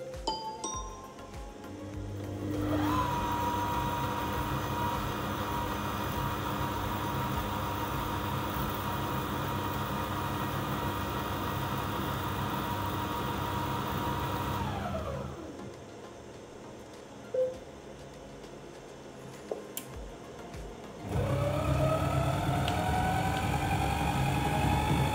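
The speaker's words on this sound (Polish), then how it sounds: "Porównajmy sobie pracę silnika na tych samych ustawieniach." A Monsieur Cuisine kitchen robot's motor runs at a steady, loud hum with a rising whine as it spins up, stops for a few seconds with small clicks, then starts again and ramps up.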